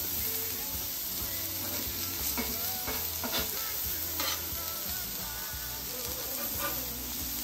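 Small broccoli pieces fry in leftover beef fat on a flat griddle, a continuous close sizzle broken by several scraping spatula strokes, with no voices.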